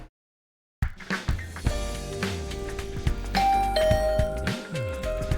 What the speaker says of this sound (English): Someone began ringing my doorbell just as the morning announcement ended.